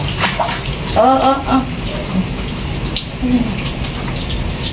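Steady shower spray runs close by throughout while a pet dog is bathed, a broad continuous hiss with a few brief voiced sounds, likely the dog whining, and a person talking softly over the water.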